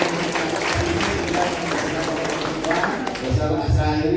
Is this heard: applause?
yes